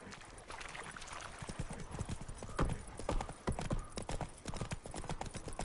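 Roach the horse trots along in The Witcher 3, hooves clip-clopping in a brisk uneven rhythm over a soft outdoor ambience, with a brief whinny-like sound and no talk.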